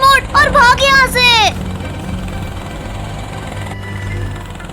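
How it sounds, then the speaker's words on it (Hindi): A voice chatters briefly in Hindi over a continuous whirring cartoon helicopter rotor drone that carries on steadily after the talk fades. "हेलीकॉप्टर में घूमने में तो कितना मजा आ रहा है"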